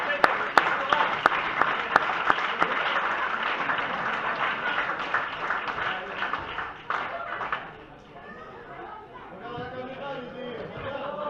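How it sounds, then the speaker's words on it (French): A tournament trophy-ceremony audience applauds the series winners, a dense crackle of many hands mixed with chatter and a voice over it, tapering off into talk near the end. "On peut les applaudir, vainqueurs en 3e série A."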